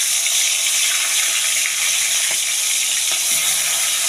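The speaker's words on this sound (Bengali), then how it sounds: "এবার তেলে আমি এক এক করে ভাজবো।" Hilsa fish pieces frying one by one in hot oil for a biryani, a steady loud sizzle and crackle throughout, with a few faint utensil touches and no talk.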